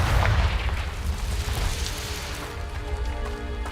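A Confringo blasting curse going off in Hogwarts Legacy, a heavy booming explosion at the start that trails into a rumbling decay with lingering crackle.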